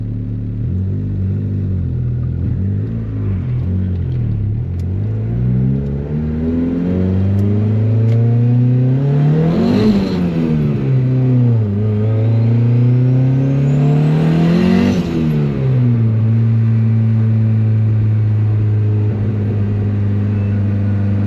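A turbocharged Honda Civic pulls hard through its gears on a cold, damp road with boost by gear. The loud engine note climbs in repeated sweeps, drops at each shift and builds again, close and continuous throughout.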